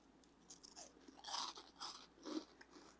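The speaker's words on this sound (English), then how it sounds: "let them hear the crunch of that batter" Crunching bites into battered fried chicken tenders, copycat fish-shack style chicken planks, several crisp brittle crunches spaced across a few seconds, close but fairly quiet with no talk.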